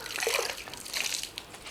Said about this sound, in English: you rinse the cloth